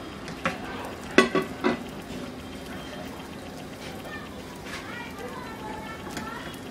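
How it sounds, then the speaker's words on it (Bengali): Paratha dough fries in shallow oil in a frying pan, a soft sizzle running throughout with a few sharp clatters near the start as it goes into the pan. "এখন আমি এর মধ্যে দিয়ে আস্তে করে দিয়ে ভেজে নিব"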